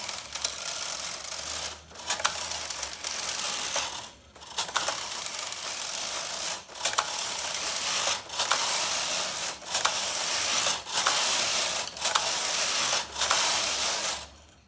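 A domestic knitting machine knits a tuck stitch pattern from a punch card with a contrast yarn in the plating feeder, giving repeated loud mechanical ratcheting carriage passes about once every second or two, separated by brief pauses, with no talking.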